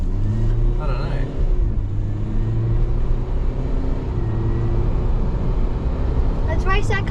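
A GWM Cannon ute engine accelerates, a steady mid-pitched drone rising under the cabin noise, with brief voices and a short high squeal near the end.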